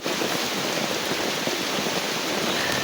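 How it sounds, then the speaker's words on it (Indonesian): Heavy rain pours steadily over a campsite, a dense, even hiss with no breaks and no voices, holding loud and close for the whole stretch. "belum ada tanda-tanda cahaya matahari karena hujan deras ini"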